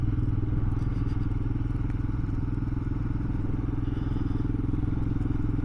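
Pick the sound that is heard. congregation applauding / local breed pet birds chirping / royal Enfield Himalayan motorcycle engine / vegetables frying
royal Enfield Himalayan motorcycle engine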